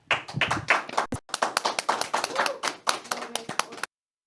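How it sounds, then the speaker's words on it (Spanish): A small audience at a Catholic faith talk claps to welcome a speaker, with sharp, fairly close handclaps running for a few seconds before stopping abruptly, and voices faintly under the clapping. "Así que recibimos a Alejandro Ortega con un fuerte aplauso."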